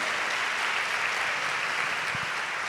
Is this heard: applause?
yes